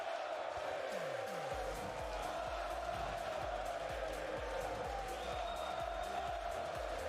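A large esports watch-party crowd at a Rocket League championship roars and cheers continuously, a dense wash of voices that stays loud throughout without pause.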